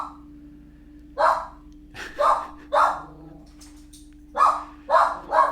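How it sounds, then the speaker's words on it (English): A dog barks repeatedly at fairly close range, a few sharp barks, a pause, then another run of barks, over a steady low hum in an indoor room. "He'll bark himself out, it's fine."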